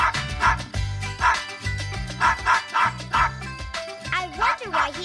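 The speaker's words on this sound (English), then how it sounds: "I wonder why he is barking so much." A dog barks and yips repeatedly in quick bursts, close and loud, over a background of music.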